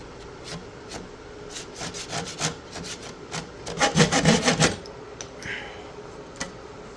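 A guitar nut is cut down with a saw or file guided by a clamped card scraper, making a series of short rasping strokes that quicken and grow louder midway, then trail off into a few scattered scrapes.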